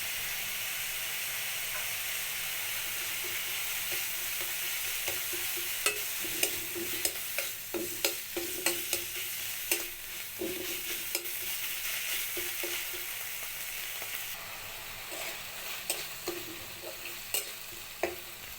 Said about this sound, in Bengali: আদা রসুন পেঁয়াজটা ভালো করে ভেজে নিয়েছি